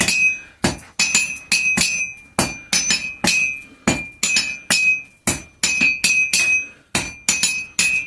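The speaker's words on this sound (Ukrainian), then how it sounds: "Кожним ударом молотка" Steady metallic hammer blows strike in a quick, fairly regular rhythm, each a sharp ringing clang, close and loud, with no talking.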